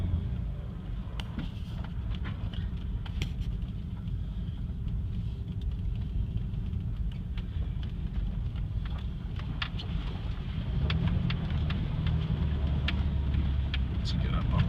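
A Toyota Tacoma SR5 4WD automatic drives over snow and ice, giving a steady loud rumble of engine and tire noise with faint scraping ticks, and a low drone that shifts near the end.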